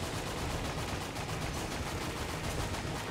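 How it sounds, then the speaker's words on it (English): Rapid, dense gunfire-like blasts from a rocket launcher in the video game Enter The Gungeon rattle continuously, a loud, unbroken barrage of explosive shots with no pause. "Get out my rocket launcher."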